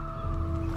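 A goose lets out one short, close, nasal honk that holds a steady pitch through its brief length in an outdoor film scene.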